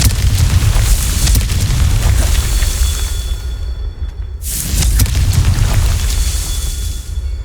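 A Confringo fire spell explodes in the Hogwarts Legacy video game, giving a loud, deep booming blast that rumbles on, briefly cuts out, then a second heavy explosion roars back.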